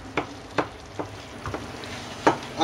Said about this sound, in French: on va la laisser cuire pendant 20-25 minutes en remuant régulièrement aussi, en écrasant de temps en temps comme ceci